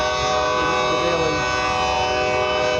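A train passes at night with a loud, steady rumble and a sustained horn-like drone that holds evenly throughout, heard up close with no talking.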